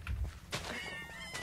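A human voice imitates a cat's meow, producing one drawn-out, rising and falling mew after a couple of soft thumps, close up and fairly quiet.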